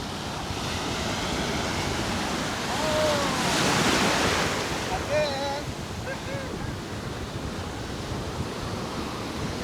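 Ocean waves wash onto the shore at Tenby in a steady broad roar with a louder surge partway through, mixed with wind buffeting the microphone and brief faint voices.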